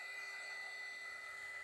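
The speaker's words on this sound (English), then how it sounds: "I use a heat gun because I don't have time to wait" A heat gun blows steadily on an action figure, making an even, continuous airy whir with a faint fan whine, close and moderately quiet, and no talking.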